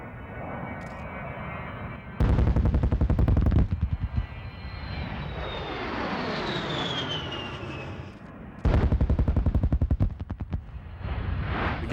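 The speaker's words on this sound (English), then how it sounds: "The Gatling gun in the A-10 fires 30mm rounds." Two short, very loud bursts from the 30mm Gatling gun of an A-10 Thunderbolt II Warthog, each a dense rapid-fire roar lasting about a second and a half, separated by the jet's steady engine whine and a passing swoosh.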